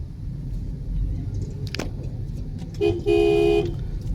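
A car horn honks in a short double blast, loud and close, over the steady low rumble of passing city traffic in Triplicane, Chennai.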